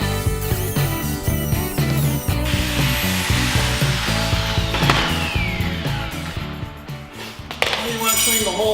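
Power drill boring a hole in a shop while a safety railing is built, a loud grinding whir with rattling, clinking tool noise and changing pitch, continuous and up close.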